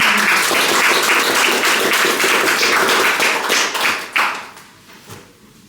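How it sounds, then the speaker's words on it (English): A book launch audience applauds together, a dense, steady wash of clapping that thins out and fades near the end with a few last scattered claps. "I think that deserves a round of applause"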